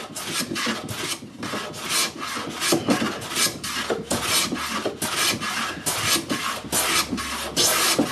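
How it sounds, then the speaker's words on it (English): A hand plane shaves a wooden desk side for a bombe secretary, worked right-handed in rapid repeated strokes. Each pass gives a close, loud rasping swish, with roughly a dozen strokes in quick rhythm and no speech. "I don't mind doing some stuff right-handed, but planing is a drag for some reason."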